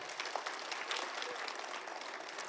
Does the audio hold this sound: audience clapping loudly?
yes